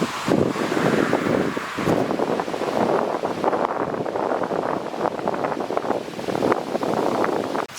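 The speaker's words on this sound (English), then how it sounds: "It's a little bit breezy this evening" Steady wind blows through an evening roadside camp, a continuous broadband rush that swells and gusts throughout with no voices.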